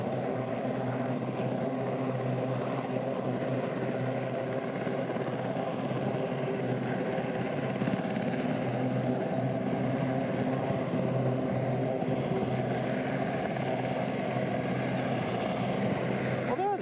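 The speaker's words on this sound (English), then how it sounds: "What are they doing, that chopper?" A helicopter flies over the sea near the Skerries off Anglesey, its steady rotor and engine drone loud and unbroken for the whole stretch.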